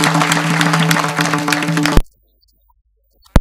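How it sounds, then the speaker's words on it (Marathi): Audience at a Marathi kirtan clapping together in a dense, steady burst over a sustained musical drone, cutting off abruptly into silence after two seconds, followed by a couple of brief sharp bursts at the very end. "तुम्ही टाळ्या वाजवा सगळेजण त्याच्यासाठी."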